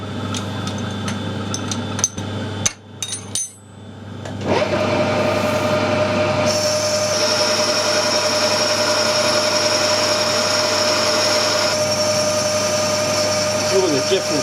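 A metal lathe cuts an internal taper for a spindle protector using the compound slide: a short stretch of clatter and thumps settles into a steady, loud machining whine and hum that runs on unbroken.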